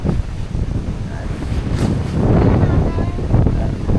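Strong, gusty wind buffeting a campsite where a tent is being pitched, roaring steadily and rising in strength partway through, loud against the microphone with no voices.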